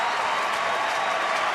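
A packed baseball stadium crowd at a Houston–Texas game rises and cheers behind Neftali Feliz on a two-strike count, a dense, steady roar with scattered applause. It holds at an even level, far-off and broad, with no speech over it.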